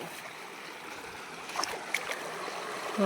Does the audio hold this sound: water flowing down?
yes